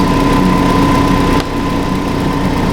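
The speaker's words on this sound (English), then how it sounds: "that's idling, in gear, full load" Hyundai Santa Fe engine idling in gear under full electrical load, with high beams, blower and brake lights on, producing a loud, steady close-up hum with a constant tone that dips slightly midway.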